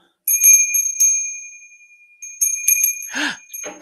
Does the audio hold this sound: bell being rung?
yes